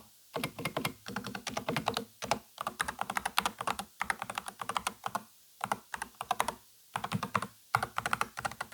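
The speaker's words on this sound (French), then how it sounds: "Écoutons d'abord 10 secondes de frappe sur le Corsair K70 Max." Steady, close typing on a Corsair K70 Max gaming keyboard, a dense run of soft keystrokes in uneven bursts with brief pauses, no voices.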